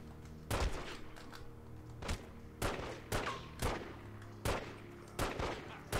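Gunfire in The Godfather video game: a series of sharp, loud single shots spaced about half a second to a second apart, standing alone over low background ambience.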